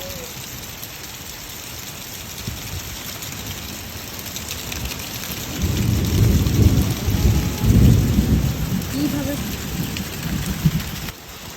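Heavy rain pours steadily in a storm while deep thunder rumbles swell and roll through the middle and latter part; a voice speaks briefly while mangoes are gathered.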